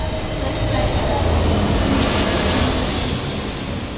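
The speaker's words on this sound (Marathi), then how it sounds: "त्या का विमानाचा आवाज" An airplane passes low over a house in Panvel, a loud, steady broadband roar that fills the whole stretch without letting up.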